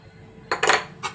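Garlic pickle being stirred with chili powder and salt in a metal bowl, a few scraping, clinking bursts of spoon against vessel, close and fairly loud with quiet pauses between.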